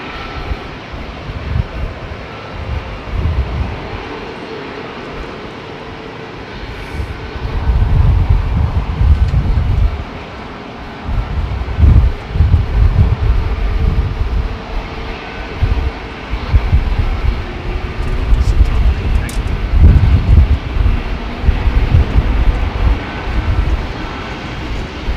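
Airliner arriving at London Heathrow on a windy day, a loud continuous low jet engine roar that swells as the aircraft passes close, with wind buffeting the microphone throughout.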